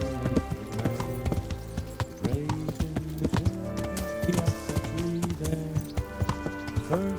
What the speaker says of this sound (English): Two horses come roaming in the